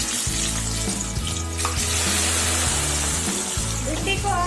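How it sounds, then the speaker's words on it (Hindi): Okra (bhindi) sizzles steadily in hot oil in a kadhai, a close, continuous frying hiss with a low tonal hum running underneath. "तो चलिए अब हम ये भिंडी जो है उसमें फ्राई कर लेते हैं"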